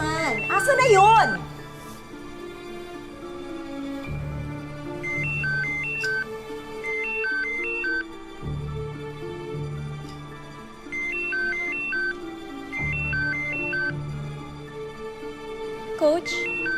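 A mobile phone ringtone plays from inside a bag, a looping electronic melody that repeats steadily for several cycles, muffled but clear, with a brief voice near the start and at the end.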